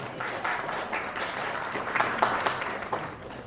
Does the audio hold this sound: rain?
no